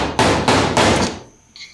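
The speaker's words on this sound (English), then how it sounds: "Put the screwdriver in one side of the notch, hammer it real hard, and then go to the other side, hammer it," Three hard hammer blows drive a screwdriver into a notch on a brake hub during a hub and brake rebuild, evenly spaced metallic strikes, loud and close, with a faint ringing tail and no talk.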